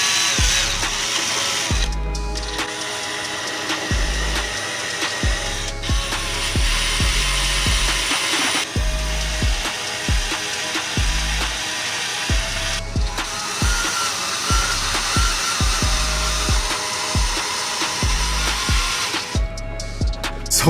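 A rotary tool fitted with a rubber wheel grinds adhesive off a car body after badge removal, a continuous close whirring scrub broken by repeated short pauses and pressure changes.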